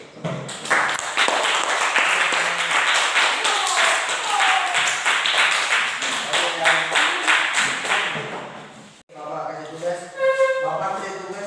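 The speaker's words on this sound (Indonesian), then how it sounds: "Oke, tepuk tangan dulu buat Fikri" A school class claps hands together for a student in a classroom, a dense, steady burst of many hands lasting several seconds near and loud, then breaking off briefly before scattered claps resume with talk over them.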